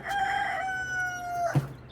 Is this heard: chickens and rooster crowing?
yes